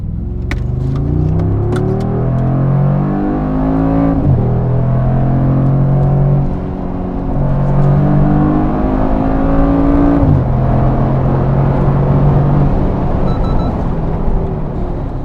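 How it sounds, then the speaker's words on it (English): A Mercedes GLE 63 SUV in sports mode accelerates hard, its loud, close engine note climbing steadily and dropping at two gear shifts before climbing again, with no talking. "we'll jump onto sports mode, test out the acceleration"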